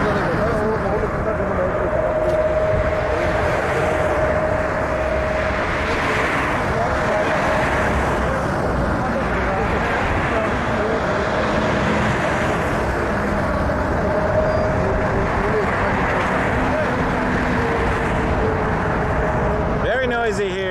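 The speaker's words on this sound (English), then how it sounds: "Very noisy here on Dixie Road. A lot of cars, a lot of traffic." Constant road traffic roars on Dixie Road near Toronto Pearson airport, a loud, unbroken wash of passing cars with a faint tonal hum, and people talk over it.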